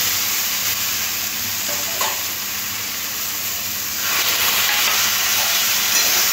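Vegetables being stirred with mustard paste in a pan for green tomato jhal: a steady, loud sizzle with soft stirring scrapes that brightens after a few seconds, no voices.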